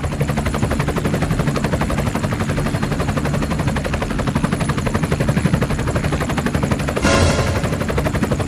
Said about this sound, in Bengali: ভাইয়া উপর দিয়ে হেলিকপ্টার যেতেছে